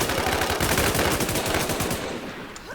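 Rapid automatic gunfire from a shooting video game, a dense, sustained burst of loud, fast shots that thins out near the end.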